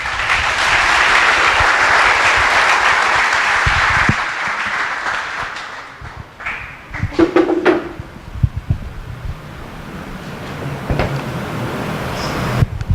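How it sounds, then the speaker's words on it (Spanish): A congregation gives a loud round of applause at a church gathering, steady dense clapping for about four seconds before thinning into scattered claps, knocks and room noise. "Si lo despedimos con un fuerte aplauso."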